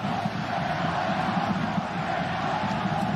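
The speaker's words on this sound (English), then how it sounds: "the Guadalajara fans respond by cheering even louder" Guadalajara fans at a football match against Barcelona fill the stadium with a dense, continuous crowd roar and cheering, loud and unbroken throughout.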